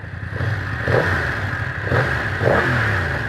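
A 2025 BMW F900R twin-cylinder motorcycle engine revs in repeated throttle bursts, rising and settling as the bike pulls away on the clutch, close by and fairly loud.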